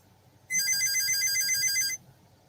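A telephone rings with a single bright electronic trill lasting about a second and a half, clear and moderately loud over a quiet room.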